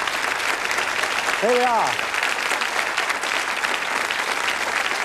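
Studio audience applauding on a British couples quiz show, steady broadband clapping throughout, with a host's voice briefly heard over it.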